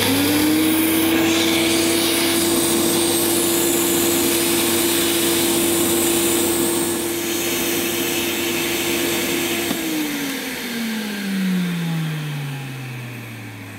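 A Hoover Sensotronic System 10 cylinder vacuum cleaner runs close and loud with a steady whining motor tone, then powers down, its pitch gliding lower as it winds off near the end.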